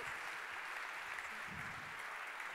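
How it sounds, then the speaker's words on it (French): Steady audience applause at an Enedis trophies award ceremony for smart city projects in Paris, a continuous wash of clapping that stays fairly quiet and even throughout, with no voices on top. "encore des applaudissements pour Axiocode et Synapse"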